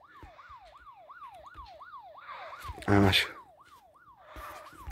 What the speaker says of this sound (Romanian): Și ca să mergem mai rapid, pornim sirenele, ca să fie totul cum trebuie.